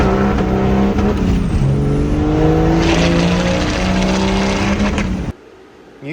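A car engine revs hard and holds steady at high RPM, loud and close with a rough, buzzing tone, then cuts off abruptly near the end.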